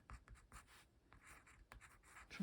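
A pen scratches out a date in a journal: short strokes and scribbles in quick irregular bursts, close and quiet, with no talking.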